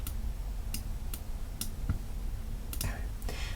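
Calculator keys pressed one after another to enter an inverse sine of 0.25 during a trigonometry problem, a series of sharp, light clicks spaced apart over a low steady background hum.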